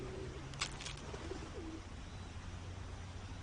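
Pigeons cooing nearby, a few soft throaty coos in the first two seconds over a steady outdoor hum, with faint higher chirps briefly overhead.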